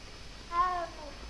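A cat in the video game Hogwarts Legacy gives a single short meow while being petted, a clear tonal call rising and falling over soft game ambience.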